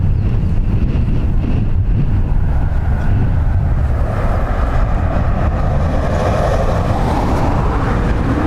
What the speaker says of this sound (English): So it's gusting 30 knots in a crosswind, full crosswind.